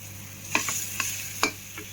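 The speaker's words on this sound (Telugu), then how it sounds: "సో అలా కలుపుతూ ఉండాలి ఉప్మాని." Upma being stirred in a pan with oil, several distinct scraping strokes of a spoon against the pan over a faint steady sizzle, close and fairly quiet.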